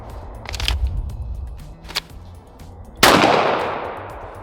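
A Lone Wolf Arms Timberwolf 19X pistol fired at a shooting range: a single sharp, loud report near the three-second mark rings out and decays, following quieter muffled thumps and handling noise earlier.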